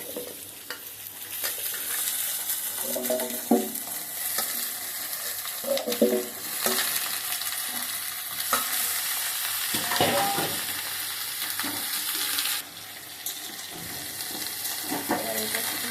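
Potol, brinjal and potato frying with leafy greens in a pan are stirred repeatedly, giving scraping and rustling strokes over a constant loud sizzle, with a brief watery trickle near the end.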